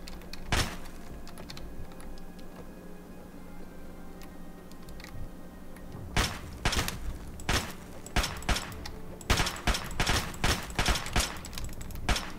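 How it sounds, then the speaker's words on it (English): Sharp, close 9mm pistol shots in Fallout Equestria ring out, one early then a rapid string of cracks in the latter half, loud against quiet background hum. "Oh, he's actually shooting his gun."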